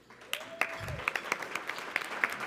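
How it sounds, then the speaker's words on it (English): Audience at a student assembly conference claps for student representatives, scattered individual hand claps ringing out in a large room, fairly faint and sparse with a tonal whine and low rumble underneath. "could they please stand for a round of applause"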